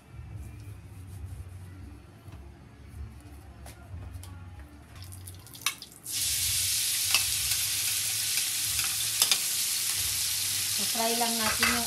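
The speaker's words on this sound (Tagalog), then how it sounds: "Fry lang natin yung ating bacon." Bacon goes into hot oil in a pan for carbonara pasta; after quiet kitchen noise and a few clicks, a loud sizzling hiss bursts in halfway through and holds steady with crackling pops.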